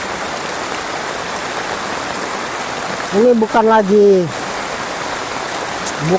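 Floodwater rushes like a river down a flooded village road leading to a mosque in Lambheu, a steady broadband roar filling the whole stretch, with someone speaking briefly over it near the middle.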